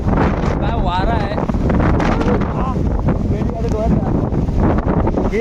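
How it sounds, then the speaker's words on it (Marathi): A strong storm wind batters the microphone outdoors during heavy unseasonal rain in Konkan, a loud, continuous roaring rumble with a voice speaking over it. "काय वारा आहे."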